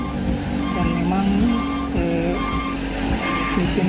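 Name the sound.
large trucks and construction vehicles passing on road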